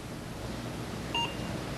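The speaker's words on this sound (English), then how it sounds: "each beep tells me when it's time to move to the next spot." One short electronic beep from a device signalling when to move to the next spot sounds clearly over a steady background hum.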